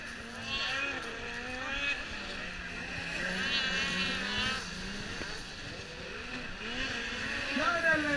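Snowmobiles in a veterans' heat of the Levi SnowX 2015 race whine and rise and fall in pitch as they race the track, a steady distant engine drone under continuous commentary.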